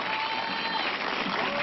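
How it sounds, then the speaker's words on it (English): Crowd at a college softball game between Oklahoma and Tulsa claps in unison, a steady rhythmic wash of applause from a distance with no talk over it. "Crowd claps in unison, trying to get Mariah Lopez over the finish line."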